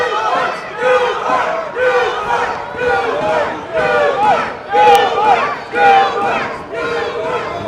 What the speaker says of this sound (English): A lot of chanting going on in the crowd.